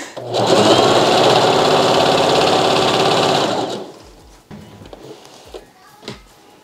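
A sewing machine stitching a double-layer satin bonnet runs loud and close in one continuous whirring burst for about three seconds, then stops, leaving quiet room noise with a few small handling knocks.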